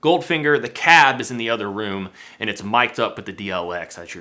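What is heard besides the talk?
None of the usual background noises is heard.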